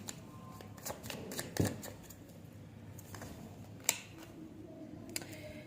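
Tarot cards being shuffled by hand, a series of quick papery riffles and flicks up close, with a sharper snap near the middle and faint room noise between bursts.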